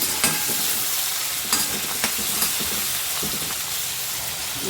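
Tomatoes, garlic and curry leaves sizzle steadily in a hot pan while cooking for misal pav, with clinks and scrapes of a spoon stirring. Close and continuous, with no talking.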